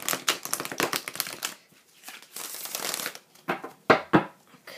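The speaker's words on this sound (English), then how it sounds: "So I'm just going to shuffle the deck here" A deck of tarot cards being shuffled close by, a run of quick riffling bursts and soft slaps with short pauses between, no voices.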